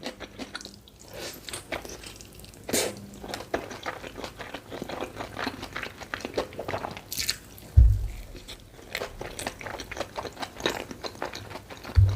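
Close-up eating of dumplings with pickled radish: wet squishy chewing, soft bites and crunches in an irregular rhythm, with occasional louder thumps and no talk.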